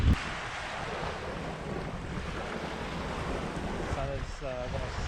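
Wind and surf at Inlet beach in the Adirondacks, a steady roaring rush of wind over the microphone with waves beneath, and brief voices near the end.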